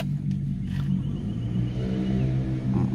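A 1995 Mitsubishi Lancer GLXi engine turns over and settles into a steady, close idle with a deep low rumble throughout.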